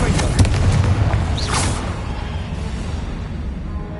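A Confringo fire spell from Hogwarts Legacy bursts with a loud booming blast and rising whoosh, followed by a sustained rumbling, crackling wash that fades slowly.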